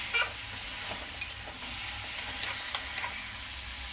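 Spiced curd paste for chicken do pyaza goes into hot oil in a pan, giving a bright, continuous sizzle broken by light stirring scrapes and clicks.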